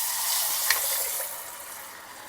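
Thick tamarind extract hits hot oil that has haldi (turmeric) powder in it, for a South Indian festival dish. It gives a bright, hissing sizzle with a small spattering pop early on, fading slightly over a couple of seconds.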